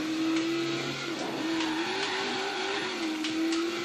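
Cars race in the video game Forza Horizon 3, with one engine holding a steady, loud drone that wavers as it revs, plus faint tire noise and a few light knocks.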